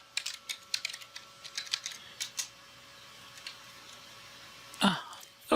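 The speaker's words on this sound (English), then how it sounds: "she's going to type in PASSWD, or password, for Sophia" Typing a password on a computer keyboard at a Linux terminal, a quick burst of close, light key clicks that trails off into quiet, followed by a single louder knock.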